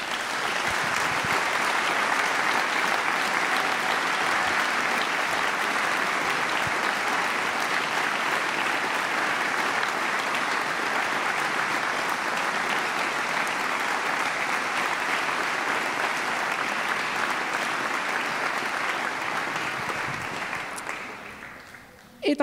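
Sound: audience applause at a concert

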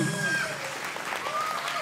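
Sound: audience applause at quinceañera event

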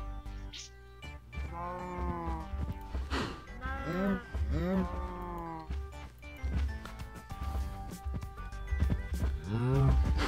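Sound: cows mooing in a video game

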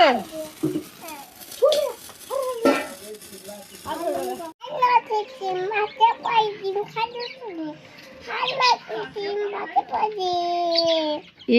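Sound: chicken clucking

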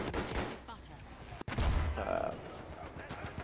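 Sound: Hellriegel gun firing in video game Battlefield 1

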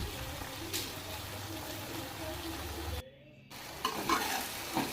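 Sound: frying and stirring spices for beans and potato sambar

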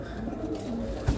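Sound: pigeons cooing

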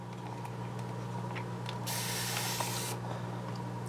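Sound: spray bottle misting water

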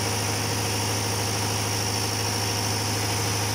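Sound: engine starting and idling

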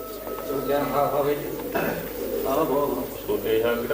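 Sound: pigeons cooing in a loft

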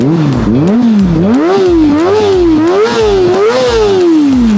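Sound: Kawasaki ZX-25R four-cylinder 250cc motorcycle engine revving

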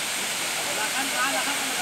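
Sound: Khopoli Jinat waterfall

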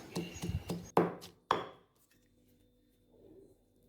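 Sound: pounding garlic and shallots with salt in a mortar

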